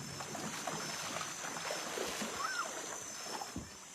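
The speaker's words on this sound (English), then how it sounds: "I'm just going to go swimming" A swimmer splashes into a rainforest river, with continuous broadband water rush and scattered soft splashes, close by, and a brief bird-like chirp in the middle.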